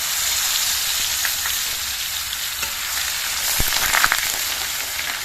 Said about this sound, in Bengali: তেলটা গরম করে নিয়ে এর মধ্যে কালো জিরে ফোড়ন দিয়ে দিচ্ছি। দিয়ে দিচ্ছি 1/2 চামচ রসুন বাটা।